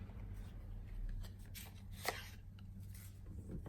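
Tarot cards are handled and shuffled close by, giving soft papery riffles, slides and light taps in quick irregular bursts.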